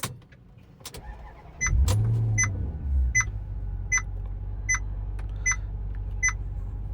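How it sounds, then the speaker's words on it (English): A Maserati Quattroporte S engine cranks and catches, settling into a steady idle, while a regular series of high electronic beeps chimes about every 0.8 seconds over the running engine. "Let's start it up and see how it sounds."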